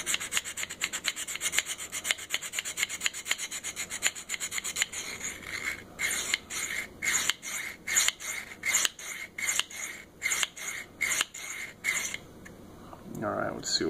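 A knife blade is drawn in short repeated strokes across a Worksharp Field Sharpener, giving a steady scraping rasp that turns into a crisp, evenly spaced stroke rhythm up close.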